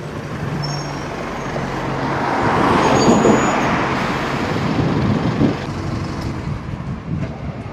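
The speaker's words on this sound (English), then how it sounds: "we're filling up with buses here, aren't we?" Double-decker buses idle and move through a crowded bus station in Swindon, a loud, continuous rumble of diesel engines that swells in the middle with passing vehicles.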